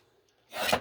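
A paper card being trimmed, a single short scraping rasp that swells up close after a moment of quiet.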